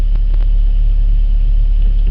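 Car engine crawling slowly in heavy traffic on a frosty motorway, a steady low rumble and drone from inside the cabin, continuous and fairly loud with no talk.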